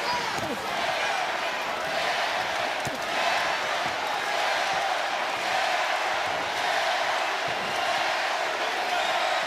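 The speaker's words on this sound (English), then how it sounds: "This crowd is electric, and Jarrett is feeling it." A boxing arena crowd in Toledo, Ohio roars and cheers continuously, a dense, loud wash of voices with a commentator talking over it.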